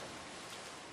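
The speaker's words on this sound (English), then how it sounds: "A thick rain poured down, mocking the fools outdoors who had to rush pathetically to find shelter." Rain falls steadily as a sound effect in a visual novel game, a brief, faint, even hiss of downpour with no voices.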